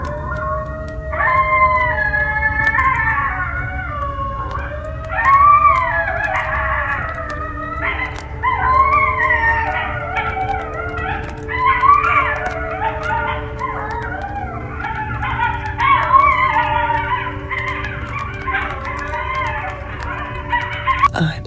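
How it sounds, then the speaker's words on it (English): A pack of coyotes howls and yips just beyond a campsite at night, with many overlapping wavering, rising and falling cries that keep going loud and close over a low steady background rumble. "I guess that was a bunch of coyotes just living their best life."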